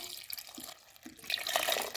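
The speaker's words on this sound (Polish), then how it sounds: "teraz zalewam je wodą" Water poured from a tap over apples in a cooking pot, a splashing, trickling flow that starts softly and grows louder and fuller toward the end, heard alone at close range.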